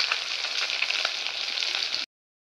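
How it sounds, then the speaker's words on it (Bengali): Pabda fish frying in hot oil gives off a steady, dense sizzle for about two seconds, fairly close and unbroken, then cuts off abruptly into silence. "এই যে মাছটা ভাজা হচ্ছে ওদিকে"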